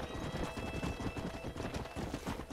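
Horse hooves clip-clop steadily in a Red Dead Redemption game, a fast continuous trotting rhythm that fills the clip at close range over a busy background bed, with no talk over it.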